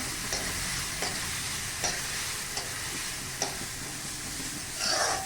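A spoon stirs cauliflower and mixed vegetables in a pot for South Indian sambar, scraping in a slow, regular rhythm about once a second over a soft continuous sizzle, close and fairly loud.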